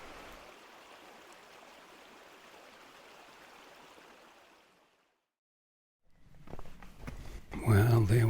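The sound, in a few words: Mount Barney Creek flowing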